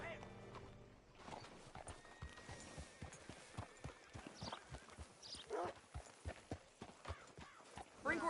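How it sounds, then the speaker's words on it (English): A horse's hooves clip-clop steadily in Red Dead Redemption II as it walks in to be hitched. The quiet, regular hoofbeats run beneath people talking. "Hitch your horse up here."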